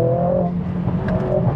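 A tuned Mercedes-AMG A45 S accelerating hard in second gear, its engine droning loud and steady from inside the car with a few faint pops near the end.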